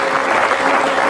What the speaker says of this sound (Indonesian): berikan tepuk tangan dulu buat mereka semua